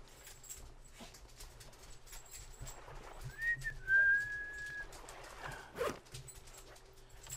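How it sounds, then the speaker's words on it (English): Dogs barking and whining in the distance over a low outdoor hum, with a thin whistling tone drifting through, in the survival game Stranded Deep. "We got some dogs barking"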